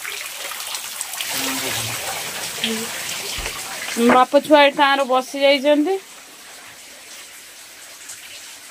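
Heavy rain pours outside during Cyclone Dana, a steady broadband hiss running throughout, with someone speaking briefly over it midway.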